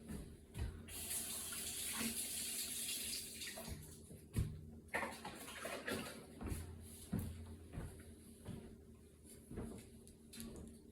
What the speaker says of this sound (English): I'm about to rinse the strawberries off